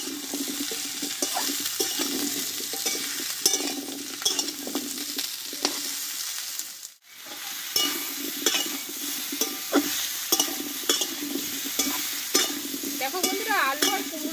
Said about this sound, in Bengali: এইভাবে আমি নাড়াচাড়া করে ভালোভাবে কুমড়োটাকে কষিয়ে নেব একটু।